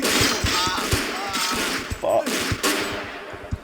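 Gunfire in the video game Vampire: the Masquerade, a rapid series of sharp shots in a fusillade under dense game noise, with someone speaking briefly.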